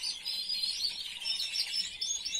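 Young caged birds of the Puertollano Valenciana type chirp and twitter in a faint, continuous high-pitched chatter, several overlapping calls with no talking.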